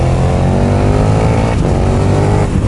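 A 2020 KTM Super Duke R motorcycle at speed, its engine droning loud and steady with a rising, revving note and rushing wind, heard close from the rider's position.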